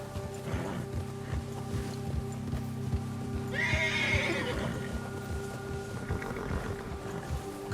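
A horse in Red Dead Redemption 2 clops along in a steady hoof rhythm while out on a trail in a spring storm, then lets out one loud whinny midway through, with no talking.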